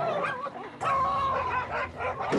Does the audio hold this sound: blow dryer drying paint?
no